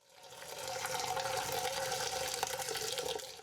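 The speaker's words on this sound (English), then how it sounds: "pour the tea from pot to pot inside your sink" Green tea poured from one pot into another inside a sink, a continuous close splashing stream that swells in and holds steady for a few seconds.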